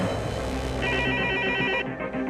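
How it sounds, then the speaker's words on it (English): A telephone rings with an incoming call from a blocked number, a steady electronic ringtone with repeating tonal pulses, fairly loud and continuous, set within a true-crime homicide documentary. "he gets a phone call from a blocked number"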